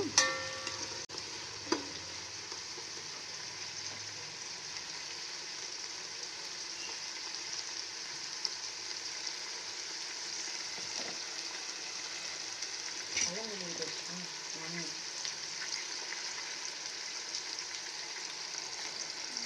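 Pieces frying for bagara rice give a steady, continuous sizzle in a pan, with a few faint scrapes and clinks of stirring scattered through it.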